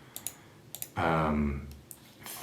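A cheap 55-euro mechanical keyboard gives a few sharp, close keystroke clicks, with a brief voiced hum breaking in between them.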